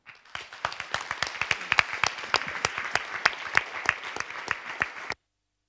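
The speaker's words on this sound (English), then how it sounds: "let's have a huge round of applause for them" A small audience at a general assembly meeting claps for about five seconds, individual claps distinct and rhythmic at close range, ending abruptly into silence.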